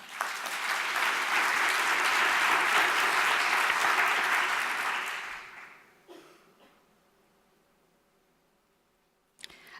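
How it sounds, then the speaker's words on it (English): A conference audience at a European communication summit gives warm applause to welcome Hu Shuli. The dense clapping holds strong for about five seconds, fades away, and a few faint knocks and handling noises follow in near quiet. "Please give a warm round of applause to Hu Shuli"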